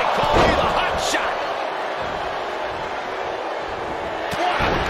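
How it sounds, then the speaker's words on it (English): A neckbreaker slam in the WWE 2K24 wrestling video game, a thud over a steady, loud arena crowd roar that swells at the start and again near the end, with a second impact toward the close. "Dragged around into a neck breaker."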